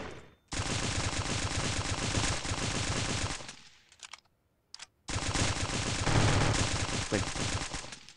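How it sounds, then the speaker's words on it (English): Rapid machine-gun fire in a Stick Warfare: Blood Strike mobile shooter game, loud and continuous for several seconds, a brief near-silent break around the four-second mark, then another long sustained burst. "ignore the sound of the gunshots"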